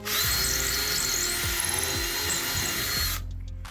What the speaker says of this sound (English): I'm gonna get a little bit bigger drill bit. Okay, so we're gonna drill it all a little bit bigger.